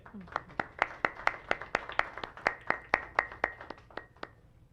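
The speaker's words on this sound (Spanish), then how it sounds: "Un aplauso grande." Sparse applause from a small audience at a cybersecurity congress, about a dozen distinct hand claps in an uneven rhythm, moderately close and fading slightly toward the end.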